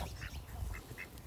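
Ducks on a sustainable homestead give a few soft, faint quacks over low background rumble, short and scattered across a brief moment.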